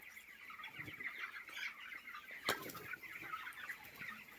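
Broiler chickens on a poultry farm cluck and chatter steadily at low level, with scattered fowl calls and a brief flutter of wings midway.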